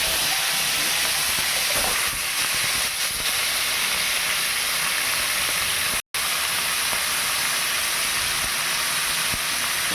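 Dried fish fries plainly in a pan without turmeric, a constant loud hiss and sizzle broken by one brief dropout partway through.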